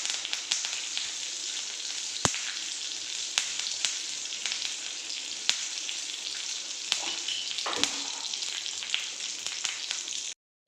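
Mustard seeds and curry leaves sizzle in hot oil while a mango pickle tempering is made, a steady frying hiss broken by sharp scattered pops and crackles.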